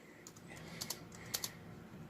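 Peck-style typing on a Nulaxy wireless keyboard: sparse, faint clicky keystrokes at an uneven pace, a few sharper taps standing out against quiet room tone, no voices.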